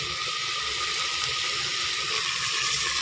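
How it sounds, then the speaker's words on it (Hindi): Water pouring into a pot of khichdi, a steady continuous rushing splash heard close and alone for a few seconds. "तो पानी मैंने ऐड कर दिया"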